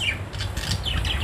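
Pet bird in a bedroom cage giving short harsh squawks, two quick rasping calls close by and alone.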